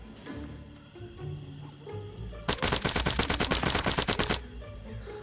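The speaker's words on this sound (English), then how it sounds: "we have the AR-416, which supports both the suppressor and the laser sight" An AR-416 rifle fires a rapid automatic burst of about two seconds in the video game The Walking Dead: Saints & Sinners, sharp repeated shots standing out against quiet game ambience.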